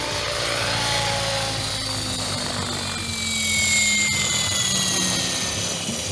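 An RC helicopter with power cut, its rotor freewheeling and winding down: a steady, loud whirring drone with a high whine that shifts slightly in pitch and swells briefly, continuous throughout with no talk.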